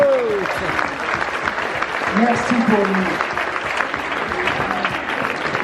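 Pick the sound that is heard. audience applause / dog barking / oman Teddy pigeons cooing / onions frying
audience applause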